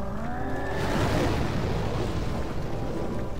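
A deep rumbling explosion in the video game Demon's Souls, a loud sustained boom that swells and then rolls on as a dense roar.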